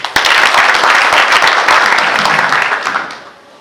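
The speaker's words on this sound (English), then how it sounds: "Let us applaud them." Thick audience applause at a university president's inauguration, loud and sustained for about three seconds before fading away quickly at the end.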